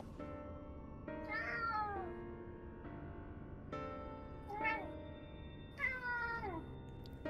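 Repeated meowing from a cat in Final Fantasy XIV Shadowbringers, three rising-and-falling calls spaced over several seconds, close and clear over a low steady game ambience.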